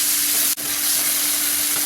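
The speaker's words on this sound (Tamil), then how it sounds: "வெங்காயம், தக்காளி, கருவேப்பிலை நல்லா வதங்கட்டும்." Onion, tomato and curry leaves sautéing in a pan for a broccoli curry, giving a steady, close hiss of frying with one brief break partway through.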